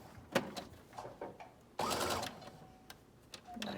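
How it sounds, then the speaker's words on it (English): A domestic sewing machine stitches a trouser inner leg seam, then reverses to back stitch; short mechanical whirring bursts come at the start, followed by a longer, louder run in the middle, then intermittent clicks with no talk. "I start sewing and then I'm going to back stitch."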